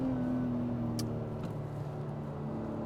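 Acura TLX engine held at a low, steady rev under launch control, a continuous close drone with a faint pitch drift and a few brief high clicks, with no talk.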